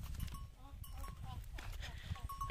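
Sheep bleating near a mountain trail on a trek to Khaliya Top in Uttarakhand, with several short wavering calls scattered among outdoor noise while someone talks over them.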